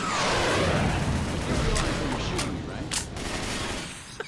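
Rapid gunfire from Nick shooting at his own teammates during co-op play in Left 4 Dead 2, a dense burst of shots with sharp cracks near the end, fading out.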